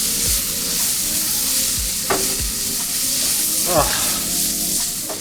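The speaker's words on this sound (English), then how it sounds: "It's really difficult to describe how good this frying cabbage smells." Cabbage frying with salt in a pan, a steady close sizzle and crackle with occasional stirring scrapes, and a brief voice murmuring once.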